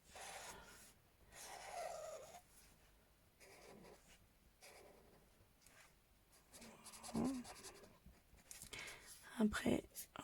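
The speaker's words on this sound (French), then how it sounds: "Le crayon, il fait du bruit sur la feuille, là." A felt-tip marker scratches and rubs on paper in short strokes while grass is coloured in, faint and close, mixed with soft breathy whispering and quiet movement.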